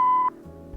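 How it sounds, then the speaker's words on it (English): A voicemail beep in the Kathy Rain 2 video game sounds as one clean, steady electronic tone lasting about a third of a second, followed by a faint low hum. "Please leave a message after the beep."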